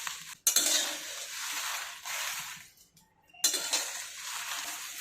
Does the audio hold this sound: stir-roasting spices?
yes